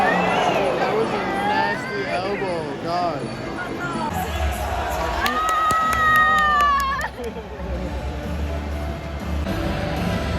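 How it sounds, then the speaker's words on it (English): Crowd cheering and shouting at a Muay Thai fight in Bangkok after a knockout win, a dense, loud roar of voices with whistles and excited yells rising midway, people talking close by throughout. "She's cheering because her guy won, I think."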